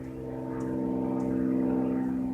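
A small blue-and-white Cessna propeller plane drones overhead in a straight line, a steady, fairly loud buzzing hum that swells slightly and holds, with no voices.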